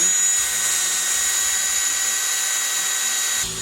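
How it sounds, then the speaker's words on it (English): A power drill bores a hole for a car seat rail in a Nissan 350Z, a loud, continuous high whine close up that holds steady before cutting off at the end. "So we're now here just drilling a hole because we're gonna bolt it on."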